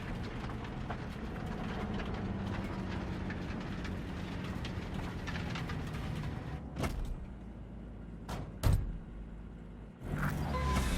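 Train in Cyberpunk 2077 rumbling steadily with dense low-frequency noise, punctuated near the end by a few sharp clanks and metallic bangs before the rumble swells again.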